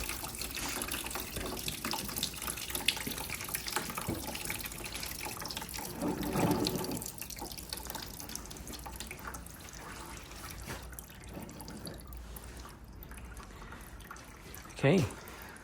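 Coolant drains from a 2018 Honda Africa Twin motorcycle in a steady trickling, splashing stream, a faint continuous liquid sound throughout.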